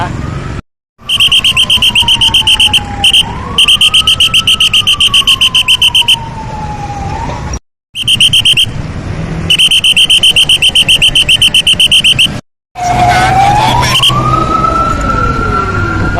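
Fire engines respond to a factory fire on Phraeksa Road in Samut Prakan, Thailand, their loud wailing sirens rising and falling up close, mixed with rapid electronic yelping and pulsing horn tones, broken by a few short gaps.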